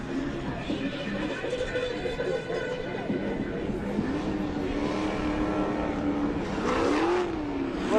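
A Mazda Miata and a BMW E46 run a course at an event, their engines droning steadily and rising in pitch as one accelerates near the end, with commentary talk over the top.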